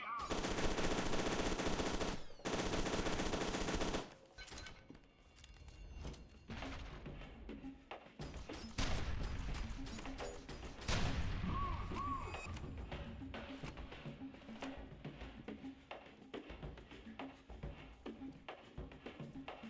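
Gunfire in the Voices in the Void video game: loud sustained bursts at first, then scattered thuds and impacts over a dense, noisy background that continues to the end.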